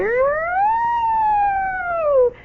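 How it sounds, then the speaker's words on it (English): A single loud siren wail rises quickly, holds, then slowly falls away before stopping abruptly. "and Nancy made the best siren noises."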